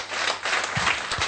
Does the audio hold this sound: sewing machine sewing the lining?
no